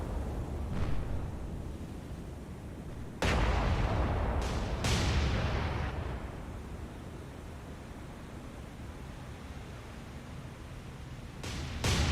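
Naval guns firing in a War on the Sea battle, heavy booming blasts with long rumbling tails, several shots spaced apart over a constant low roar of noise, no voices.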